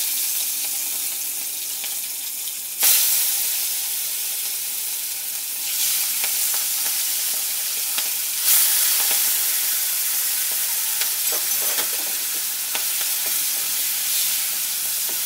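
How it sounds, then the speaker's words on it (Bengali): Prawns rubbed with salt and turmeric frying in hot oil for a Bengali banana stem dish, giving a steady loud sizzle throughout with bursts of louder crackling as pieces are added and stirred. "এই তেলের মধ্যে আমি চিংড়ি মাছটা ভেজে নেব।"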